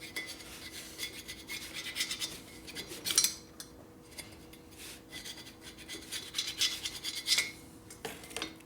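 Scraper cleaning old gasket material off the engine case surface of a 1980 Harley shovelhead during a top-end rebuild, a long run of close, irregular scratchy rasping strokes.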